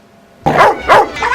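Dog barking in two sharp, loud bursts close by after a moment of silence, followed by a third softer bark, in a cartoon setting.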